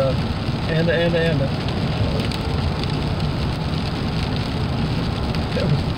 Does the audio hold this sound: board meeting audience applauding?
no